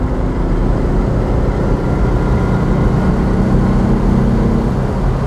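A 1961 Porsche 356 B T6 Hardtop Coupé cruises along, giving a continuous deep engine drone and road rumble from within the cabin, loud and even, with no voices.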